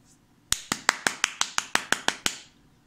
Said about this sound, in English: Here's three clapping sounds.